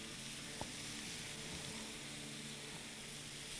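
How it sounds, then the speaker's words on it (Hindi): Meat for gyro shawarma fries in a pan, giving a steady, dense sizzle with a couple of faint clinks of a utensil, close and continuous without speech. "डाल के और फ्राई करेंगे।"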